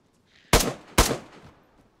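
Two loud, close gunshots from a weapon in the DayZ video game crack about half a second apart, each with a short rumbling tail, with no talk over them.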